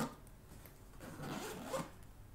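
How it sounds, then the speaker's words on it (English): A zipper runs along the top of a JB Cases 6x12 hybrid case as it is closed. The pull is quiet, close and raspy, and it grows louder with a brief scratchy peak toward the end. "it opens with a zipper at the top"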